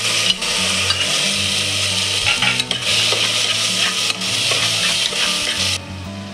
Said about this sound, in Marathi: आता आपला कांदा टोमॅटो परतून झालेला आहे, त्याच्यामध्ये मी आलं लसूण मिरचीची पेस्ट ॲड करते।